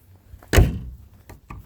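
Back door of a 1971 Cadillac hearse closing: one solid, close thump with a short rattle, followed by two fainter clicks of the latch.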